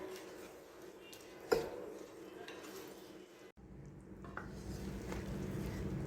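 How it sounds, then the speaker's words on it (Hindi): Spices roast in a pan for Lahori chicken cholay, a soft low sizzle with a spoon stirring and an occasional clink against the pan, fairly quiet throughout. "अब यहाँ पर इन सारे मसालों की हम 5 से 7 मिनट भुनाई करेंगे"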